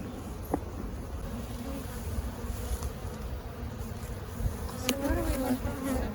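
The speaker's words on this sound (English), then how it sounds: "We've got lots of bees" A dense, steady buzz of many bees swarming close by an opened hive, with a low droning hum that continues throughout and rises slightly near the end.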